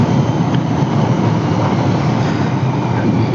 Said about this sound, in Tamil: ஸோ இப்போ பார்த்தீங்கன்னா ஒரு 50 km ஸ்பீட் போயிட்டுருக்கேன்.